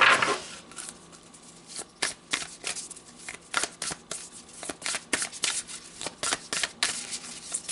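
Tarot cards shuffled up close, a rapid run of crisp riffling flicks and slaps repeating in irregular bursts throughout, with no voices.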